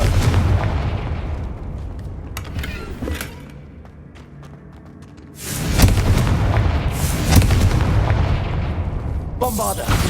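Confringo fire spell bursts in Hogwarts Legacy, deep booming blasts with rumbling low end, first fading and then returning loudly mid-clip alongside sharp cracks and game effects.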